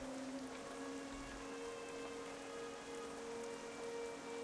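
Steady rain falling in the TurtleWoW game world, a continuous even patter and hiss on surfaces with faint tonal music hum beneath, no voices.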